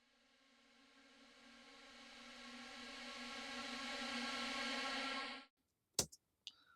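Reversed vocal drenched in a massive fully wet reverb swells slowly from near silence into a loud, sustained tonal wash, then cuts off abruptly, followed by a few brief sharp clicks.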